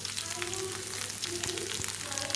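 Mustard seeds and garlic, crushed with the skins on, sizzle and crackle steadily in hot oil for tomato rasam, with small popping spatters throughout and no talking.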